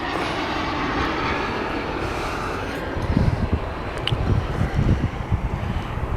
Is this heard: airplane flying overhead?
yes